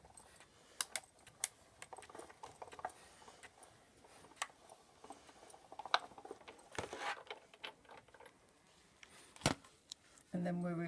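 Felt wound through a Sizzix die-cutting machine gives off faint, irregular mechanical clicks and ticks, with a few sharper snaps and a louder grinding burst at the end.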